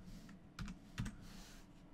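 Two quick, faint clicks from a computer mouse are heard close up, with a quiet background hiss and no talking.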